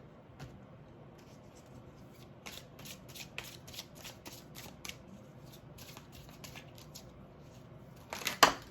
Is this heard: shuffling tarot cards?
yes